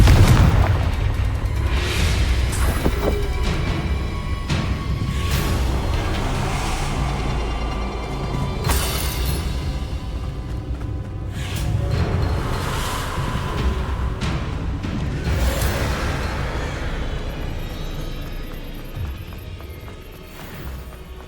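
Confringo fire spells blasting in the video game Hogwarts Legacy, several heavy booming explosions with crackling bursts over a loud, continuous rumbling game soundscape, with one big blast near the start and more around the middle.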